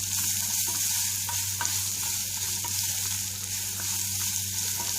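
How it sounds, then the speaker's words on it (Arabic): Vegetables sauté in a pot for soup while being stirred, giving a steady loud sizzle with light scraping from the spoon, close and continuous with no talk. "نقلب شويه برضو لحد ما الخضار يتشوح شويه"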